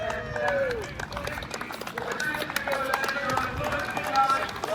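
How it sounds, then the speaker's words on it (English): A crowd claps at a drag-and-drive racing event, a steady spread of applause with talk over it throughout, heard from within the crowd. "Everybody's clapping him on that he made it."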